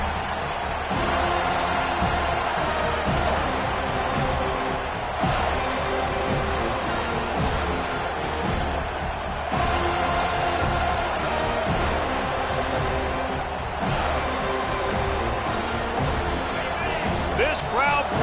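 A basketball arena crowd roars with sustained noise and cheering during a game, a dense wash of voices under a commentator's steady play-by-play, with occasional sharp thuds from the court.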